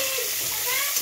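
Boiled elephant apple pieces fry in hot oil with a brief, dense, steady hiss close by. The sound is short and continuous, with a faint murmur of background noise.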